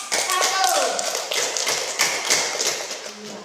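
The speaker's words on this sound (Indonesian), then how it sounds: "Tepuk tangan untuk kelompok 1" An elementary school class claps for a group of classmates, a near, uneven burst of hand claps and taps with scattered thumps and shuffling, fading slightly toward the end.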